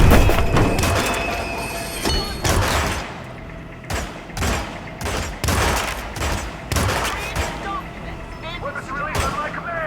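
Bursts of gunfire in the Hitman 2016 Freedom Fighters mission in Colorado, with repeated loud volleys and thuds in a dense, chaotic mix over game background sound.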